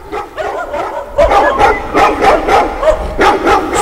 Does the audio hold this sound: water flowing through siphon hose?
no